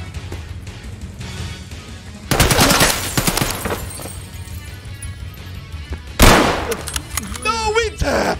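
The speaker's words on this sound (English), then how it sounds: "Why are they shooting at us?" Gunfire in Escape From Tarkov, two loud rapid bursts of shots with crashing impacts, close and harsh, with voices speaking in between.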